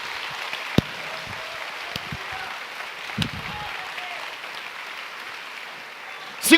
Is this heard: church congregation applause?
yes